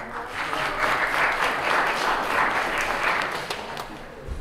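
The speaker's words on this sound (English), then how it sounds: "Can we give our volunteer a round of applause?" Audience at a touring science experiments show gives a volunteer a round of applause, a full, sustained burst of many hands clapping at close range, easing off near the end.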